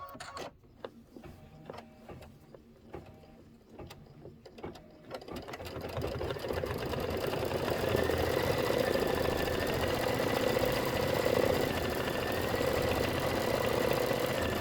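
An embroidery sewing machine stitches a roof placement line, starting with a few sparse clicks and then settling into a steady, fast mechanical chatter that runs continuously and close by.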